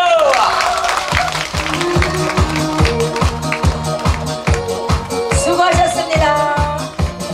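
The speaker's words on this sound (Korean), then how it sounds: "박수 한번 주세요." Audience applause at a daytime pumba folk street performance during the Masan chrysanthemum festival, a dense burst of clapping with rhythmic tapping that carries on steadily under music.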